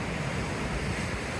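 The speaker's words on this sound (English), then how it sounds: "you got water splashing here on the right" Seawater splashes and surges inside a grotto cave at Sagres, Portugal, a dense, continuous roar of churning water with wind-like hiss and no voices.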